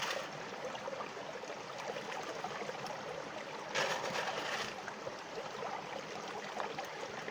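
Water rushing steadily through a gold prospecting sluice box at a creek, a continuous close wash of flowing water with a brief louder surge midway.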